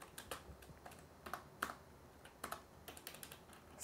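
Fingers type C++ code on a computer keyboard in quick, irregular clusters of soft clicks, close and quiet against a faint room hush.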